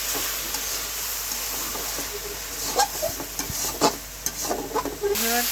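A bitter gourd and potato fry sizzles in a pan as a utensil stirs it, with soft, continuous frying hiss and irregular scraping strokes against the pan.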